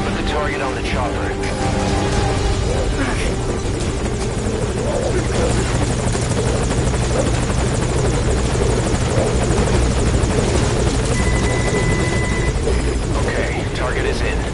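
Helicopter rotor chop and engine drone from a PS4 video game, steady and loud throughout with radio-style voice chatter over it.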